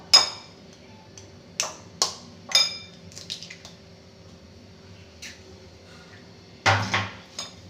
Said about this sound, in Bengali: এবার এর মধ্যে আমি একটা ডিম ফাটিয়ে দেবো